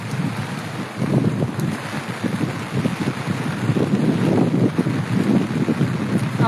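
Heavy rain pounds down over waterlogged farm fields and roof terraces at a village ashram near Baldana, a loud, rough, gusty roar with fluctuating intensity and wind buffeting the microphone, no one speaking.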